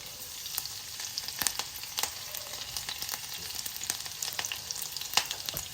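Garlic sizzles and crackles in a hot pan for chicken momos, a busy steady frying hiss with quick bright pops and occasional stirring clatter, close up and moderately quiet, no talking.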